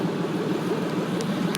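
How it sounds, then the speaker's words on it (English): A 1991 Chevy 1500 pickup truck with a 4.3-liter V6 idles steadily nearby, giving a continuous low, even rumble with no talking. "I bought a new truck. Y'all can hear it idling in the background"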